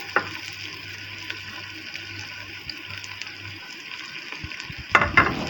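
Onions frying in oil in a pan until brown for a degi korma, giving a steady, moderate sizzle with light crackles throughout and a couple of sharper stirring clatters near the end.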